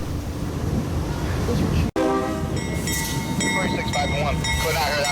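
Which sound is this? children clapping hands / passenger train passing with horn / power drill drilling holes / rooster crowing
passenger train passing with horn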